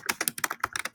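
Rapid, irregular keystrokes on a computer keyboard while searching a library database, a quick run of close, crisp clicks with no talking.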